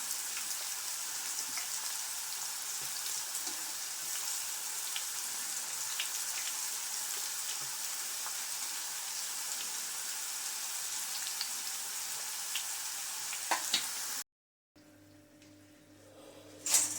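Steady, dense crackling sizzle of raw banana slices deep-frying into chips in hot oil, continuous for most of the clip before a brief cut and a quieter tail.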